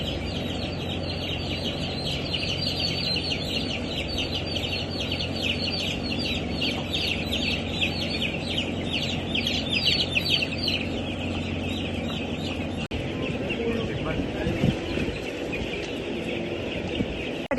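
Broiler chickens clucking inside a closed-house poultry coop, a dense, continuous chorus of many birds over a steady mechanical hum.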